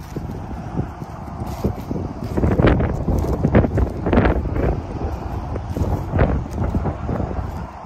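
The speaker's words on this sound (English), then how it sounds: "It's still very windy at the minute." Strong wind buffeting a microphone across an open farm field, a loud, continuous roar with gusty surges, no voices.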